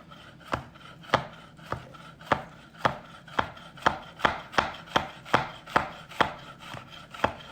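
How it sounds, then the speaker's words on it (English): A kitchen knife rocks steadily through food on a cutting board, producing about sixteen crisp, evenly spaced chops in a regular rhythm, close and clear with no speech. "we start with the tip down, and we're going to rock the knife"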